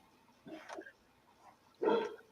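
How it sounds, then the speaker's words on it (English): Two short, quiet barks from a small dog, spaced about a second and a half apart, the second one louder. "I can hear your puppy."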